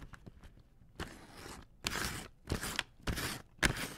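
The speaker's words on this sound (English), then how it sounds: "how about we just see how it sounds to cut paper?" Scissors cut through paper up close in several separate crisp, crunchy snips, spaced about half a second apart, with short quiet gaps between them.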